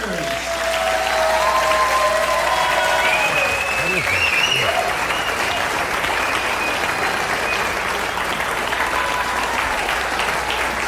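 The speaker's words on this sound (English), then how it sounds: "please give a rousing round of applause once again for the star of our show, Mr. Jonathan Winters." An audience applauds the star of a magic comedy show with loud, continuous clapping, while whistle-like tones and a voice rise over the crowd noise.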